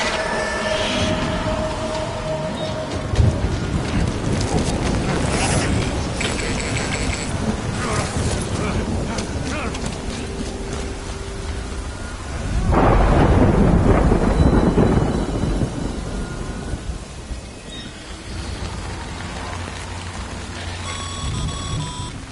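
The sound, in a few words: rain and thunderstorm in a video game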